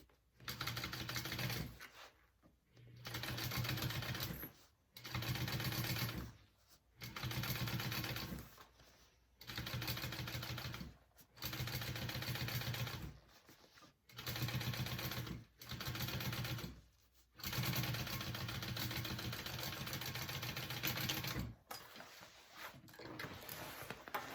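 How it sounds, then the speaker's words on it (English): A sewing machine top stitches through the pressed seam of a tote bag lining, running in about nine bursts of rapid mechanical chatter separated by short pauses, close and clear, with a longer run near the end. "we are sewing through that with our top stitch"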